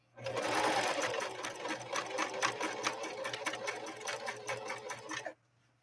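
A Husqvarna Model 145 sewing machine stitches its widest zigzag, a steady fast rhythmic clatter of needle strokes running about five seconds close up, then stopping abruptly.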